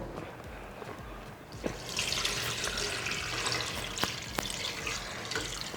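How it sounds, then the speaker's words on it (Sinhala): Water being poured carefully into a clay pot, a close steady trickle and splash that grows fuller after a soft start, with a few small drips and knocks. "ඒකට කටු වෙන ගන්න නැතුව පරිස්සමින් මේ විදිහට දාලා වතුර එකතු කරනවා."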